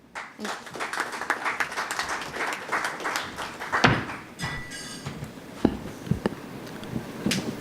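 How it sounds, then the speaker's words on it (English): Scattered applause from a conference audience welcoming a senior publishing editor to the stage at a sustainability ICT event in Goa, moderate and uneven with individual claps standing out, thinning toward the end. "A round of applause for him."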